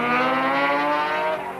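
Touring race car at the 1983 ATCC round at Symmons Plains, a loud, close engine howl sweeping past with a falling pitch as it passes, then fading slightly at the end.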